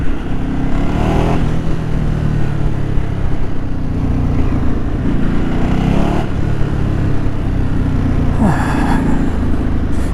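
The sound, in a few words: Ducati Multistrada 150 horsepower motorcycle engine revving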